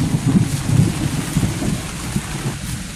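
Rain falling outdoors on a Filipino farm, a steady broadband wash with low rumbling patter and gusty noise throughout, no voices.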